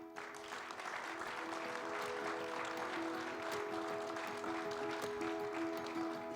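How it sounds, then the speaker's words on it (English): A conference audience applauds the speakers and panelists at the close of a hydrogen energy event in Tokyo, a sustained even round of clapping from a large hall that holds steady throughout. "Please also give a big round of applause to all the speakers,"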